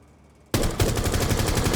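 Rapid gunfire bursts out abruptly after a quiet lead-in, a dense run of shots aimed at a partially hidden target in a Tom Clancy's Rainbow Six Siege tutorial, loud and sustained to the end.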